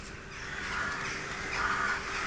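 Birds call outdoors in Killarney, Ireland: faint crow-like caws over a steady noisy background, with a couple of louder calls near the end.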